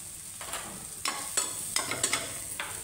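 Chili, turmeric and asafoetida sautéing in hot oil for brinjal bharit, a steady close sizzle broken by several sharp spoon scrapes and stirring clacks against the pan.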